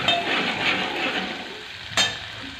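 Chopped green chillies sizzle and fry in hot oil in a pan for tuor dal tadka, a steady crackling hiss with a sharp burst of sizzle near the end.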